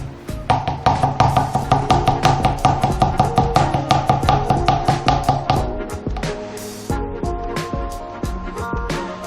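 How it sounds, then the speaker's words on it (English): Rapid, steady knife strokes mincing garlic on a cutting board while preparing a honey garlic glaze at a campsite, dozens of close, crisp taps in a fast even rhythm that slows and loosens toward the end. "I'll start by mincing some garlic"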